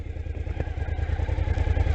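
A motorcycle engine idling just after being started with the push button, a steady close low rumble with rapid even pulsing and light mechanical clatter.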